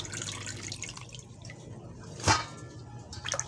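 Leafy vegetables being washed by hand in a sink, with faint water dripping and gentle splashing, one brief louder splash, low and close.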